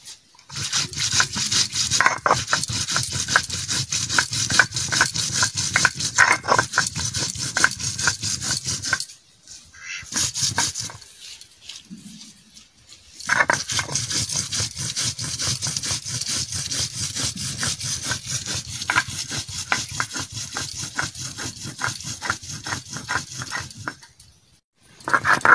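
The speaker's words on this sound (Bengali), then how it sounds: "ধনিয়া জিরা একদম ফিনিশ করে বেটে নিচ্ছি।" Coriander and cumin seeds ground on a stone slab in a home kitchen: steady rhythmic rubbing and scraping strokes, close and fairly loud, with two brief pauses before the grinding resumes.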